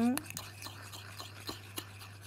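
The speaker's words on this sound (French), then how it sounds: "Je mélange tout ça." Homemade anti-aging cream, with drops of Algo Boost Jeunesse added, being mixed by hand: soft, evenly spaced stirring strokes and light scrapes over a constant low hum, close and fairly quiet.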